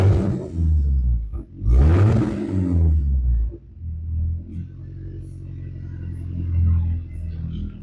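A BMW E36 engine with an electronic valve exhaust blips twice in loud, rising revs, then settles into a steady, throaty idle rumble nearby.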